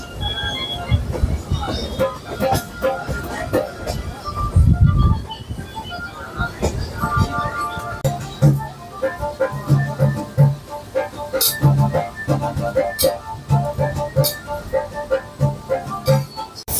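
Shantiniketan Express train running on the line from Howrah to Bolpur, steady rumbling rolling noise with repeated rhythmic wheel knocks and occasional squeals, close and loud throughout.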